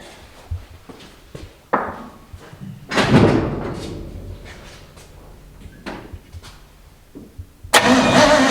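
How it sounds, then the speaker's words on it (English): An old Chevrolet C20 truck, parked fifteen years, is tried for a start after a stuck engine. Scattered clunks and knocks come first, then bursts of loud nearby cranking that stop and start again, with no talking. "Let's give her a little juice here. Let's see"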